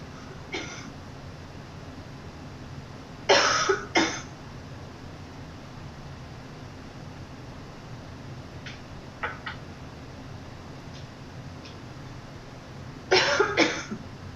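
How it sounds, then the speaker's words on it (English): Three separate bursts of coughing from one person, each a quick pair or cluster of harsh coughs, loud and close against a quiet room, with long silent gaps between them. "that was the perfect time for my cough to have this morning"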